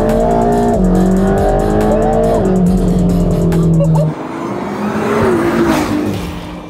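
A BMW M4 on a race circuit roars loudly nearby, its engine climbing and shifting through gears with tire noise, then dropping away to a quieter drone.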